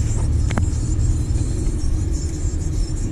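A car driving along a road in Sunny Isles, heard from inside as a loud, steady low road rumble with constant engine drone and no voices.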